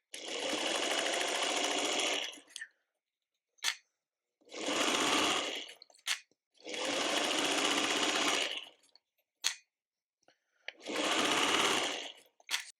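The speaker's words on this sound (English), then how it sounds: "we're going to sew all of those together and press towards our fabric eye" Four bursts of fast, steady machine stitching, each a few seconds long, as a sewing machine joins quilt fabric pieces for a tulip block, with short clicks and pauses between runs and no talking.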